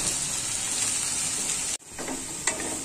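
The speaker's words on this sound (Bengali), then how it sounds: "লাল হওয়া পর্যন্ত আমি একটু ভাজতেই থাকবো, আলুটি একটু একটু ভালোই লাল করবো আমি।" Potatoes frying in hot oil until reddish, a steady close sizzle that cuts out abruptly for a moment, then resumes with a sharp crackle near the end.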